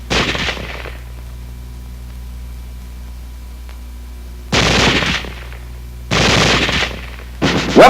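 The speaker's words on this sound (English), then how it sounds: "Weapons giving automatic fire will fire continuously as long as pressure is applied to the trigger or until the ammunition is exhausted." Automatic small arms gunfire in three loud, sustained bursts, each lasting about a second, separated by long quiet gaps with a low steady hum underneath.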